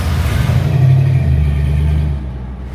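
A pickup truck engine revs hard as it pulls away, a loud close throaty roar building to a peak then easing and fading slightly as it drives off.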